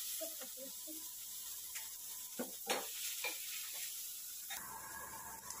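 Onions, garlic and ginger sauté in a pan, a steady hiss with scattered stirring clatters and scrapes, close by, while someone speaks briefly at the start.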